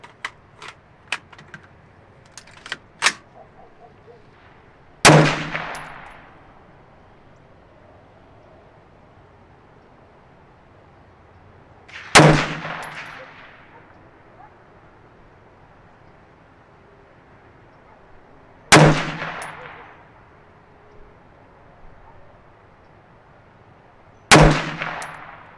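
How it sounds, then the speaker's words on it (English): A Northtac Assault V1 air rifle fires a five-shot group at targets, heard as sharp loud single cracks spaced several seconds apart, each trailing off, with faint small clicks of handling before the first shot. "We're gonna shoot a five shot group"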